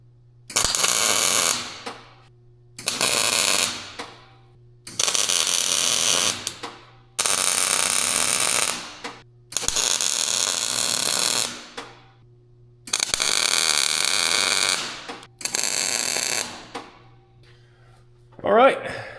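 Tack welding nuts onto a bolt while repairing a Mack truck: seven separate bursts of harsh, crackling arc welding, each lasting one to two seconds, loud and close, with short quiet gaps between them and a low steady hum underneath.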